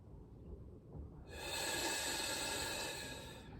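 A long, steady breath of air, breathy and hissing, rises close to the microphone during a breathwork session, continuing alone for a few seconds without any talk.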